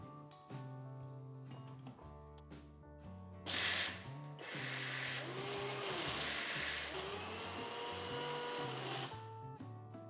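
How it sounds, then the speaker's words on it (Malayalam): Small mixer grinder jar crushing cooled roasted peanuts for peanut butter, a loud whirring grind that starts with a sharp burst, then runs steadily for several seconds before cutting off, with a low motor hum around it. "അപ്പോൾ മിക്സിയുടെ ചെറിയ ജാറിലാണ് നമ്മൾ അരയ്ക്കുന്നത്."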